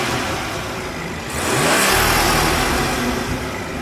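A 2016 BMW 340i's twin-scroll single-turbo 3-liter inline six idles with a rumble, then the revs sharply rise into a loud roar that holds near the end, heard close up with no talking.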